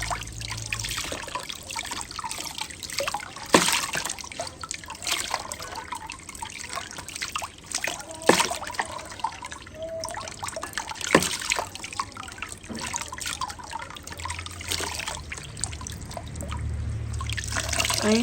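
Tie-dyed fabric is rinsed in water, with continuous sloshing, trickling and dripping close by, with occasional louder splashes throughout.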